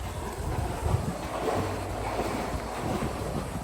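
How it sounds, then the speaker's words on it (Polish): Rushing water at an outdoor attraction near a walking path, a steady broadband wash with low rumble and some wind buffeting, continuous and fairly close throughout. "Słychać tylko wodę, nie wiem, czy widać."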